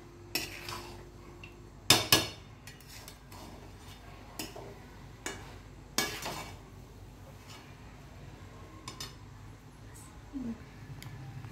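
Carrot halwa with cardamom is stirred in a pan, giving irregular metallic spoon knocks and scrapes against the vessel over a quiet background.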